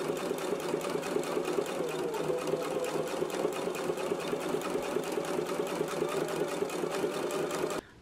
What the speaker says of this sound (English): we're going to do an understitch right here beside the seam.